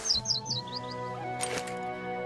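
Bird chirps from South Park: The Stick of Truth, a quick series of high, bright tweets in the first second, then a short brighter burst near the end over a quiet, steady game music background.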